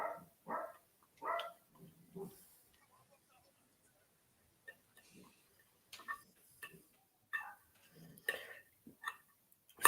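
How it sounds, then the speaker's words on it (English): A pup barks in short, sharp bursts of several yaps, loud and close, with scattered quieter sounds and pauses between groups. "there's ways of stopping your pup from barking"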